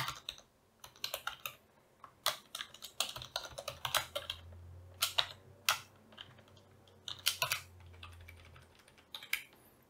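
Computer keyboard typing while writing code for an ESP32 board in the Arduino IDE, with close bursts of rapid keystrokes broken by short pauses and no talk.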